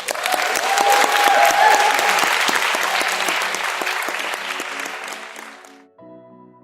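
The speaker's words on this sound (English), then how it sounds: "Round of applause, guys." Loud audience applause at a talent show with steady clapping that swells early, then gradually thins and fades out near the end.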